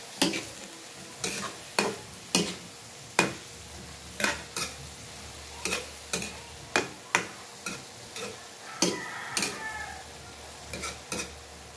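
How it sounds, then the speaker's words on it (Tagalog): Okra stirred in a cooking pan for ginataang labong, a steady sizzle cut by about eighteen sharp, regularly spaced scrapes and knocks of a utensil against the pan, clear and close. "Ihalo ko na yung isang okra."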